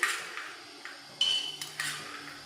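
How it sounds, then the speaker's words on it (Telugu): Peanuts, four spoonfuls, tipped into a kadai on a lit stove for dry roasting, giving a few sharp, quiet clinks and rattles scattered over a soft background, with no talking. "ఒక బాండి పెట్టాను, స్టవ్ వెలిగిస్తున్నాను. దీనిలోనికి 4 స్పూన్ల పల్లీలు వేస్తున్నానండి."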